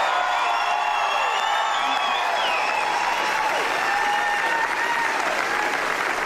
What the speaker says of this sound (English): receiving a standing ovation from the crowd